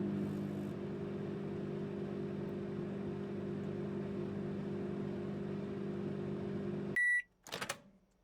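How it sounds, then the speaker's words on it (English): A microwave oven heating a burrito hums steadily with a low, even drone, then the run ends with a beep followed by a short clatter of the door, close and alone. "Can I just put it in the microwave?"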